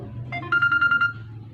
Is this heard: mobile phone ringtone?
yes